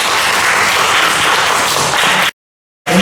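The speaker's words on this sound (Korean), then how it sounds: "한번 박수 칩시다." A church congregation applauds during a Sunday worship service honoring veterans, steady dense clapping filling the room for over two seconds before cutting off abruptly, then resuming briefly.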